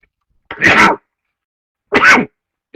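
Two sharp sneezes, close and loud, about a second and a half apart, with silence around them.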